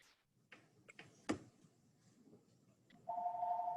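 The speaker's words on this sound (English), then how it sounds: "that's my phone ringing in the background." A phone rings in the background during a county climate change task force meeting, a steady electronic tone starting near the end after scattered quiet room noises and clicks.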